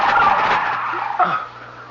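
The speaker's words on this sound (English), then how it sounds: "The flamingos. The birds." A flock of attacking flamingos shrieks and squawks in a radio drama, a burst of harsh, overlapping bird cries, loud and close, that thins out over two seconds.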